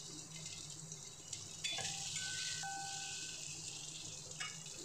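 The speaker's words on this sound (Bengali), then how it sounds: "দিয়ে এটাকে হালকা একটু ভেজে নেব" Potato pieces frying in mustard oil in a pan, giving a steady, fairly quiet hiss and crackle throughout with a few faint clinks and taps, no voices.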